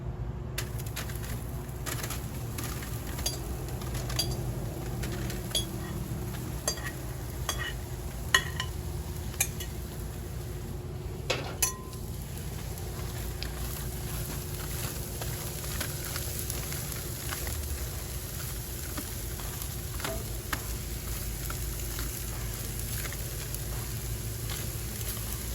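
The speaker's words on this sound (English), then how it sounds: "now I'm going to add the broccoli on top of the foil" Broccoli sizzling on foil over a grill, a steady low crackle and hiss running continuously with scattered small pops and clicks, nearby and moderately quiet with no talk.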